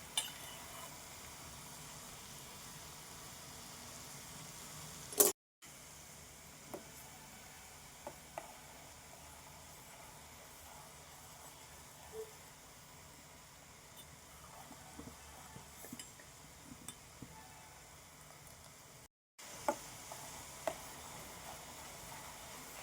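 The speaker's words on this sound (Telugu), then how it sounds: "ఆ బబుల్స్ అన్నీ ఆగిపోవాలి, అప్పుడు మనకి నూనె బాగా కాగిపోయినట్లు లెక్క." Carrot pieces bubble and sizzle softly in heating oil for homemade carrot oil, a faint, steady frying hiss with occasional small pops throughout.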